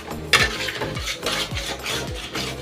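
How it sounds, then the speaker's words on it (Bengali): Freshly ground spice paste being sautéed in a pan, with a spoon scraping and stirring in rhythmic strokes about twice a second and light metallic clinks against the pan, close up and without talk. "মশলাটা এখন কষাবো।"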